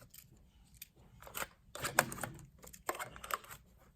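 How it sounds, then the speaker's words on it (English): A memory card clicks and scrapes as it is slid into slot 1 of a GameCube, giving a few close, sharp plastic clicks and rubbing sounds in a short burst. "insert a memory card slot 1 on your GameCube"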